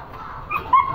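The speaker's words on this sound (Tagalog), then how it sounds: "Pinatanggal ko na yung aso." A dog that had been tied up in the hot sun whimpers and then lets out a couple of short, yipping barks up close. The sounds are brief, faint and strained.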